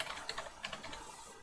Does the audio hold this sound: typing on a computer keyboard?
yes